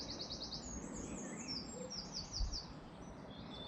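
Lively birdsong with repeated high chirps and short trills, moderately loud, over a constant background rumble outdoors with no voices, on a walking trail in New Mills, Peak District.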